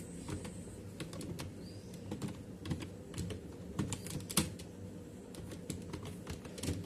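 Steady typing on a computer keyboard while filling in a payment receipt in Excel, with irregular close key clicks and a few sharper taps over a low background hum, no talking.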